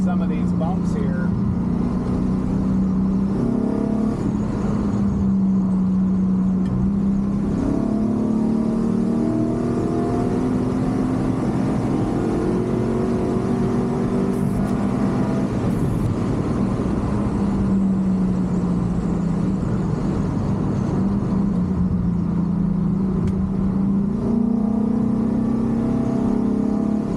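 A Ford F100 truck with a swapped 5.0 Coyote engine drives steadily, its engine droning and rising and falling in pitch through gear changes, heard from inside the cab as a continuous loud hum.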